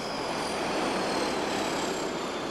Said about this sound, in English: Northwest Flight 1441 shutting down its engines for the last time